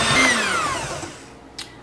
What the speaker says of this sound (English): I'm going to mix this until it's well combined into my butter and sugar mixture here